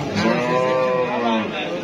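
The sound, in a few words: pregnant cow mooing at Shimulia cattle market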